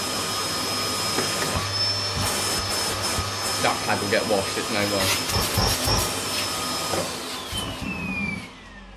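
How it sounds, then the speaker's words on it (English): A Bosch vacuum cleaner runs on max mode with a loud, steady whine that shifts in pitch and winds down at the end, while a person talks over it. "And if you're wondering what vacuum I'm using to clean this one, it's this Bosch."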